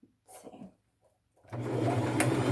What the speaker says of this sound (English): I'll do a smallish straight stitch, and I'll just go around and sew those until they're all sewn on